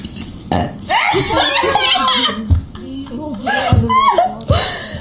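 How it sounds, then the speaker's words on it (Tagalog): A woman's deliberately faked burp, made with the voice, comes as several loud close croaking belches among chuckles and giggling from a group of people. "kaya ko mag-fake dighay"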